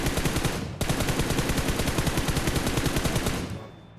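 Sustained automatic gunfire in PUBG Mobile, with a rapid, steady rattle of shots that breaks off briefly near the start and then runs for about three seconds before cutting out, loud and close.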